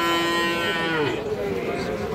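A young bull calf at a cattle market gives one long, loud, close moo that slides downward at the end, with crowd murmur behind.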